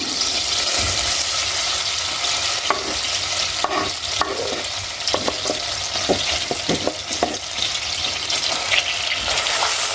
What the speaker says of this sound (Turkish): Gördüğünüz gibi yağım eridi. Şimdi soğanını ekliyorum.